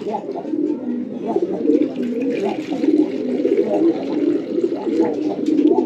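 Pet pigeons coo continuously and close by, in soft, overlapping low throaty phrases, while drinking saline water from bowls.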